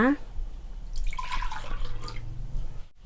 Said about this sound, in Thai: แก้ว16ออน ใช้น้ำมะพร้าว60 ml ค่ะ แก้ว22ออน น้ำมะพร้าว80 ml นะคะ